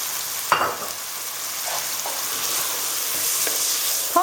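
Food roasting in a pan gives a steady, loud sizzle with occasional stirring scrapes, heard alone without talk.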